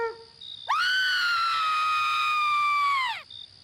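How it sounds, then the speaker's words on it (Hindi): A cartoon ghost woman lets out a long, shrill, piercing scream that rises sharply, holds steady for over two seconds, then drops away, loud and alone. "भूतनी चीखती है।"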